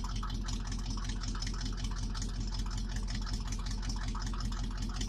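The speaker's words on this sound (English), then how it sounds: "This guy with the loudest engine in the world is parking directly beside me." A loud car engine idles close by, a constant low throbbing rumble that holds steady throughout with no talking.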